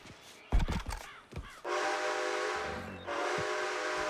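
A steam train in the Red Dead Redemption 2 video game sounds its whistle as it pulls away: two long, sustained blasts, loud and near, following a few sharp clanks and bangs.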